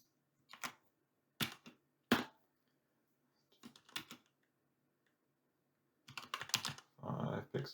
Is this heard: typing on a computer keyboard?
yes